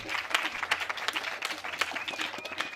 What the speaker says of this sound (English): And I'm clapping for my community here